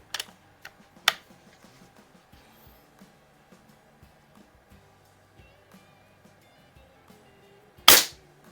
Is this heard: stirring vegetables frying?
no